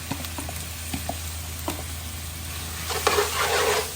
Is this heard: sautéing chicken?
yes